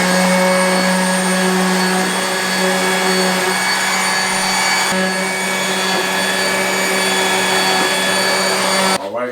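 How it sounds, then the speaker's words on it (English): A DeWalt DCS355 oscillating multi-tool smoothing a motorcycle's front bumper, a loud, steady high-pitched buzzing whine that holds without a break for about nine seconds before cutting off at the end, close up with no talking. "in case you're wondering what this is just a oscillating multi-tool. The DeWalt part number is a DCS355"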